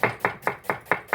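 A knife slices finely through offal on a cutting board, six crisp, evenly spaced strokes in quick succession, close and clear with no talking.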